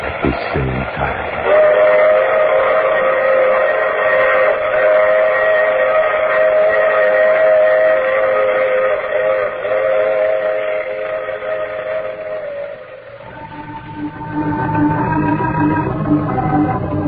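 Steam train sound effect from an old-time radio drama, The Mysterious Traveler: a loud, sustained whistle-like tone over rumbling rail noise lasting most of the stretch, shifting pitch near the end, with no talk over it.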